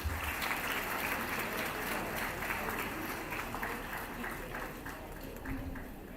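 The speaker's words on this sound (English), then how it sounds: "Big round of applause, guys." Audience applause at an international moot court competition award ceremony on human rights, a steady sustained wash of clapping from a large crowd with faint voices mixed in throughout.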